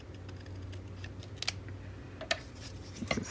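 Scissors trimming a postcard, a few quiet, close snips spaced out over a faint background hum.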